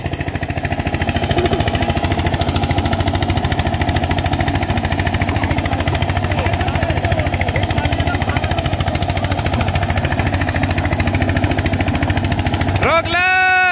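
A 1994 Eicher 241NC tractor drives an 8-foot rotavator without a pulley gear fitted, giving a loud, steady engine drone that runs unbroken throughout. A brief rising whine comes right at the end.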